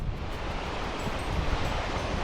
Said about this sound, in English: This is the Bitterroot River.